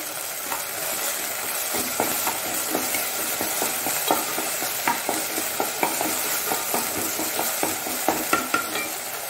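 Fenugreek fries in a pan for a Mangalorean fenugreek and shallot gravy, a steady bed of sizzling with a ladle stirring through it in quick, regular scrapes and taps, close and with no talk.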